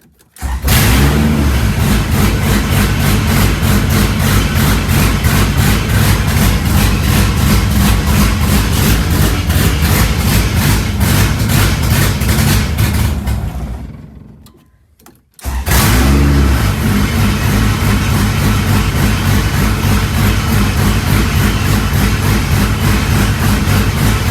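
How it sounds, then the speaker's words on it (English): An engine from a winter car build project runs right after starting, a loud steady rumble that cuts out briefly midway, then catches again and keeps running strongly to the end. "All right, we have an engine."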